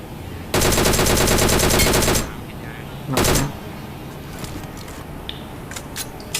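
A sustained burst of automatic gunfire in PUBG Mobile rattles loudly for about two seconds, then a shorter second burst follows, and smaller game sounds trail after it.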